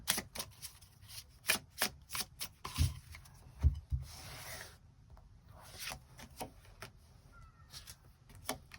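Tarot cards shuffled and drawn during a Korean tarot reading: a run of quiet, close card flicks, rubs and soft slaps in irregular bursts with brief pauses, no talk.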